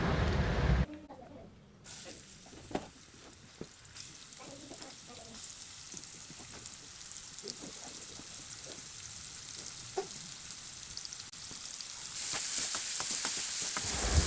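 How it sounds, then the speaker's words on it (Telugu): Chopped onions, green chillies and tomatoes sizzle and fry in hot oil in a kadai, a steady crackling hiss with occasional stirring clicks, close and moderately loud throughout, with no talking. "ఒక కడాయి పెట్టుకొని దానిలో 3 స్పూన్ల నూనె వేసుకొని అది బాగా వేడెక్కాక దానిలో సన్నగా తరుక్కున్న ఉల్లిపాయలు, పచ్చిమిర్చి, టమోటాలు తీసుకొని దానిలో వేయండి."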